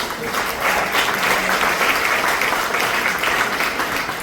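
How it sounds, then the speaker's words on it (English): Sustained audience applause at a comedy show, dense and steady from a large crowd for several seconds, loud and close with no talking over it. "give yourselves another round of applause for coming out here"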